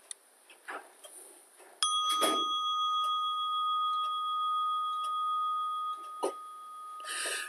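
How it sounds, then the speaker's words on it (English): A meditation bell strikes once and rings out with a long, steady, sustained tone that lingers through the quiet room. "At the sound of the bell, we'll begin the meditation."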